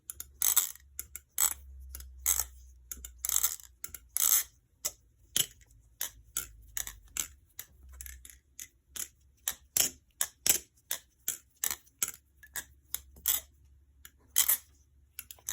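Rapid metallic clicks and clacks of a Rich balisong butterfly knife being flipped with loose pivots, coming in quick irregular bursts and close up, with no voices.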